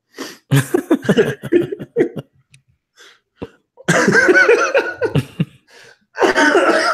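Repeated coughing from a man, close and loud: a string of sharp coughs, a quieter stretch of small throat sounds, then two long raspy coughing bursts separated by a short gap.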